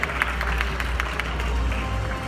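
An audience at the Design Week Turkey 2017 award ceremony applauds steadily as a designer is welcomed on stage, a dense, even wash of clapping from a crowd.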